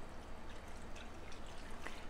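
A cup of water is poured into a pot holding five cups of frozen peaches, giving a steady, close trickling splash that runs unbroken for about two seconds with no voices.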